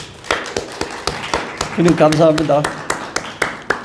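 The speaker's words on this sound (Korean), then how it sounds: "우리 주님께 감사와 영광의 우리 박수를 드리십시다." Church congregation applauding during Sunday worship, with sharp, separate claps spread through the room while a voice speaks briefly over the middle of it.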